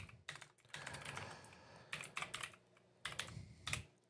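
Bursts of typing on a computer keyboard, with clusters of quick key clicks separated by short pauses, close and fairly quiet, and no voice.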